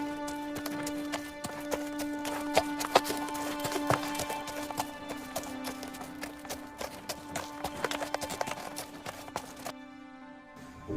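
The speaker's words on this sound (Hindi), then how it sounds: "और फिर राजा अपने घोड़े पर सवार होकर निकल जाते हैं।" Rhythmic clip-clop of a horse's hooves, steady and fairly loud, as a king rides off on horseback in a Hindi cartoon moral story, over a sustained musical drone that cuts out near the end.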